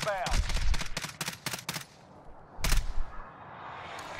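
An airstrike in a video game arrives as a rapid burst of sharp gunshots in quick succession, a pause, then another loud cluster of shots fading into a rumbling tail.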